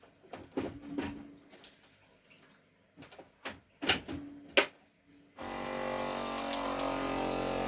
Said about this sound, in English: Takes 2 seconds, seals it down, takes all the air out